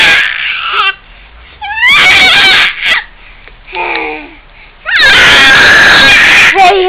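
Loud, piercing high-pitched screams come in several long bursts separated by short pauses, close and dominating the sound with no talk over them.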